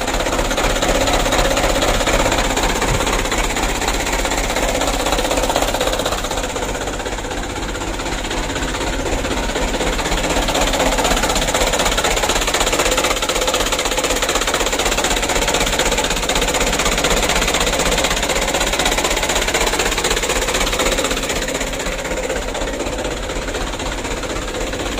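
An engine left unstarted for three days runs continuously after starting, with a steady, dense mechanical clatter and knocking vibration, loud and close throughout with no voices.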